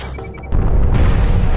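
A ship's turret fires a heavy shot during a pirate battle in the video game Owlboy, one loud close boom followed by a sustained rumbling roar, with no talking.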